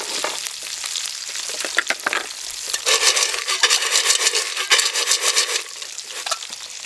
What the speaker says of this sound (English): Just finishing up the last of the bacon here